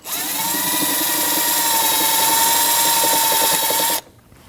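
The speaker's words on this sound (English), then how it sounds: "Then loosen your bolt." A power tool, likely an impact driver or drill, whirs steadily and loudly up close while a bolt on the idler pulley of a 2003-2008 Subaru Forester 2.5L is loosened, then cuts off abruptly near the end.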